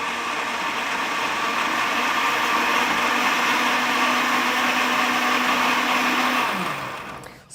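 A countertop blender whirs loud and steady, mixing a lemon drink with sugar, then winds down in the last second as it is switched off.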